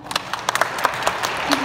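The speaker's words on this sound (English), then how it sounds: "what I'm happy to do is I want you to start clapping" Audience clapping at a Christmas event for a returning soldier, scattered claps building into applause over a murmur of crowd noise.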